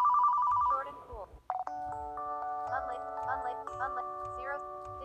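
Downloaded phone ringtone named Short and cool: after a brief tonal snippet, a bright electronic chord rings out loud and close, with quick chiming notes dancing over the sustained tones.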